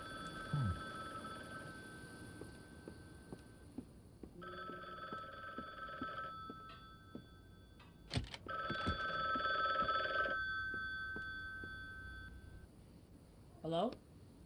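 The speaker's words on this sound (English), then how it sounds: "No way in hell are you hearing your phone from all the way down here." In The Bookwalker: Thief of Tales, a phone rings in two long electronic bursts separated by a pause, quiet and tonal, with a player talking over parts of it.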